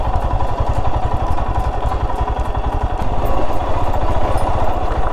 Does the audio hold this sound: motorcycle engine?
yes